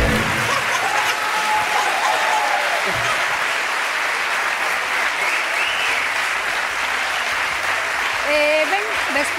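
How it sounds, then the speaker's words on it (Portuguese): Sustained applause from a TV studio audience on a Galician afternoon talk show, steady and dense throughout, with a brief voice or musical tone rising near the start and end. "Un aplauso para Manuel."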